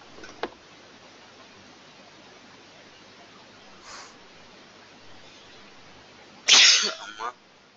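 A single sharp sneeze bursts out near the end, loud and close, following a faint tick early on over a quiet room hum during a Selenium WebDriver coding tutorial.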